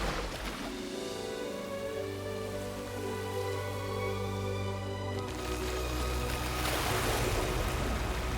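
Water rushes back in Disney Dreamlight Valley, a steady wash of flowing, surf-like noise that swells louder toward the end over a sustained musical tone, with no talking.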